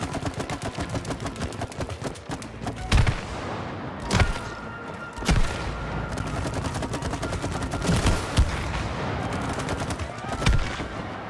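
Repeated video-game gunfire from It Takes Two, with rapid bursts and several sharp loud shots spread throughout over a dense, busy action soundscape.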